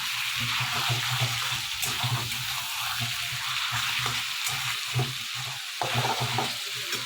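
Ginger-garlic paste is stirred into chicken curry frying in a pan at home, giving a steady close sizzle with repeated scraping stirring strokes throughout, and no voices.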